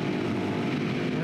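Kawasaki KLR650 single-cylinder motorcycle cruising on a freeway at about 90, a steady droning engine hum mixed with heavy wind rush, continuous and fairly loud.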